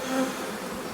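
Honeybees swarm over a hive frame during queen rearing, giving a dense, steady buzz that holds close and loud without pause for the full second, with no voices over it.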